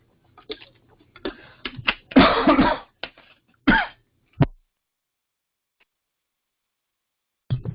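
Someone coughs and clears their throat several times in short, harsh bursts, close by, with silent pauses between them.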